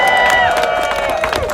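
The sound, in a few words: crowd applause and cheering at a protest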